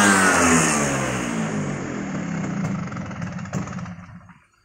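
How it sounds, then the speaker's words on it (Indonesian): A Vespa PX 150 scooter engine is blipped lightly once, the revs rising briefly and then sagging as the engine dies away to near silence, close and without any voices. "Digas ringan banget."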